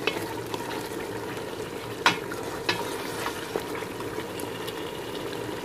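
Meat and onions simmering in oil and spices inside a cocotte, a steady close bubbling sizzle with a few sharp clinks of a utensil against the pot.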